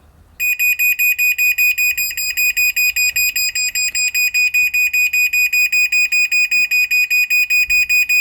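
A garage door opener sounds its alarm: a loud, piercing electronic beep repeating rapidly and steadily, about three pulses per second, close to the microphone and alone for the length of the clip.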